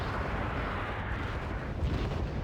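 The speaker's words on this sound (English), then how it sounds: "Mortars coming over as well" Mortar fire rumbles through a battle in the video game Wargame Red Dragon, a dense, loud, continuous roar of overlapping blasts and low booms with no breaks and no talking.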